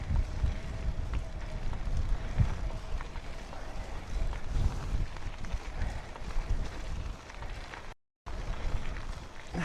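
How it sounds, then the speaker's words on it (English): Wind buffets a tandem bicycle ride in Portugal, producing a constant gusty rumble that rises and falls, with a brief dropout near the end. "Wind though."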